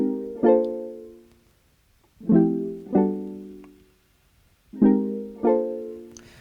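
Korg hardware synthesizer sound from a song's prologue, played as four rhythmic stabs in two pairs, each bright harmonic note swelling quickly and decaying, with a filter cutoff sweep shaping the tone; no talking over it.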